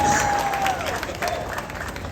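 Crowd applause at a Fourth of July Boston Harborfest gathering in Massachusetts, a steady wash of clapping from a sizeable audience lasting the whole moment at an even level.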